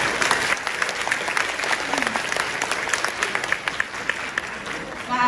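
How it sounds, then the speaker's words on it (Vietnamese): An audience applauds at a real-estate project launch for an apartment development in Phu Quoc, a lively, continuous patter of clapping with a voice speaking faintly over it. "Xin một tràng pháo tay"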